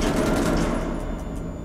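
Rapid gunfire in the horror video game Man of Medan, a quick burst of repeated shots over a dense low rumble, fairly quiet in the mix.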